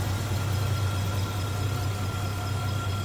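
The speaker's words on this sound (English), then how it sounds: "Engine bay, nice condition. Smooth runner also." The 307 five-liter V8 of a 1985 Oldsmobile Toronado Caliente idles smoothly with a low, constant hum and an even tone, close and alone.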